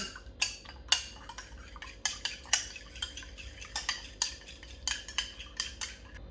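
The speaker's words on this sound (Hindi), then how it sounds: "ये मैंने अंडा अच्छी तरह फेंट लिया" Eggs whisked in a bowl with quick, irregular clinks of a utensil against the sides, steady near rhythmic tapping with no talking, as two eggs are beaten for a potato recipe.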